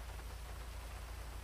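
Faint, steady rain hisses evenly over a low rumble, with no voices, in the video game GTA V.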